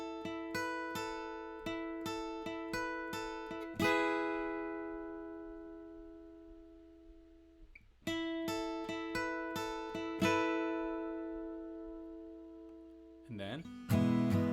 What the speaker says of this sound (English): So the pre-chorus lead together should sound like this.